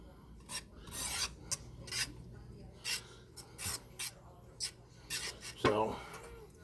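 Soup is whisked in a pot in a small restaurant kitchen, producing rhythmic scraping and rasping strokes against the metal at a moderate, uneven pace. A sharper clink of metal comes near the end, and faint background noise sits underneath.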